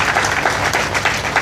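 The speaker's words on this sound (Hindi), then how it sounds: "ताली बजाइए ना अपने पूर्वजों के लिए" A crowd claps during a Devi Bhagwat Katha religious discourse. The applause is dense and continuous, close and loud, with no talk over it.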